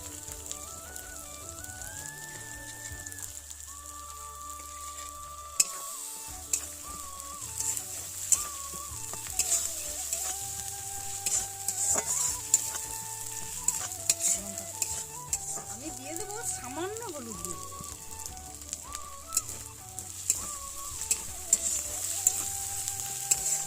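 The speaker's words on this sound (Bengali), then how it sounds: "হালকা আঁচে আপনারা মশলাটা করবেন যাতে মশলাগুলো পুড়ে না যায়" Spice paste with cashew and melon-seed paste cooking gently in a pan on low heat, a soft continuous sizzle broken by frequent scraping stirs and light clinks of the spoon against the pan, while background music plays.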